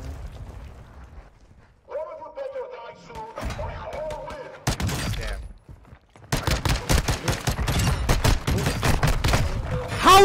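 Rapid bursts of video game gunfire, sparse at first and then dense and continuous, with heavy automatic volleys and thuds, under excited players' voices talking.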